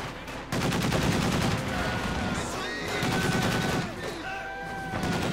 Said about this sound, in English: Dushka supporting it. And there we go, immediately pressing the Pioneers with some rather impressive heavy fire.